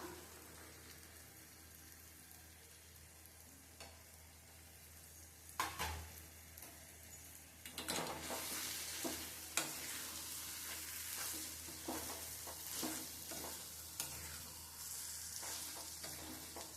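Drumstick pulp is sautéed and stirred in a pan, giving a steady sizzle with scraping stirs and a clatter of utensil strokes that grow busier after the first few seconds; no voices.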